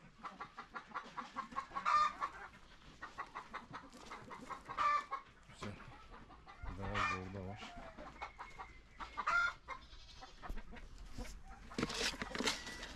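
Chickens kept one to a cage cluck and squawk repeatedly at close range, with a rooster crowing once partway through and a person talking softly at times.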